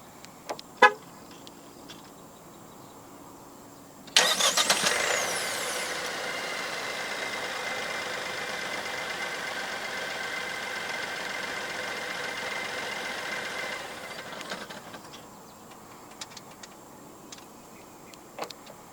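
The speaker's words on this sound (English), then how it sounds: "The S70 in Malaysia does come standard with a remote engine start system" A 2024 Proton S70 1.5T Executive is started by remote. A faint click comes first, then the engine catches with a sudden burst and settles into a steady, even idle for about ten seconds before cutting off into quiet.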